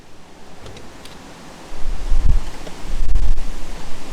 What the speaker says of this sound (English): there's some major wind just picked up as I open this